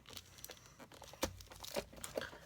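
Paper crinkles and creases as a sheet is folded in to form the bottom of a handmade notebook, with soft, irregular rustles and a few sharper crunches, close and quiet.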